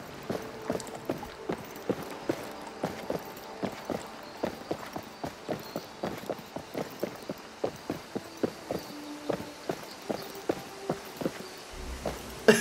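Video game footsteps crossing a wooden bridge: rhythmic hollow hoof-like clopping, steady and regular, like a horse walking across planks, moderately quiet.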